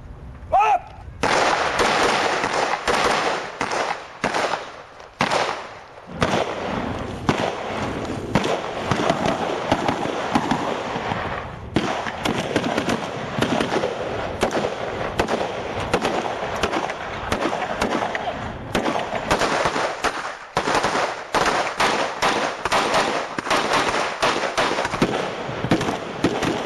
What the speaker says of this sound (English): We have incoming fire.